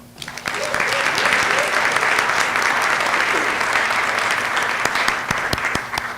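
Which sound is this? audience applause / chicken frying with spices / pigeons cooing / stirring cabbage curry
audience applause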